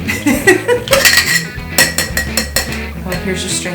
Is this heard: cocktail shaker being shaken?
yes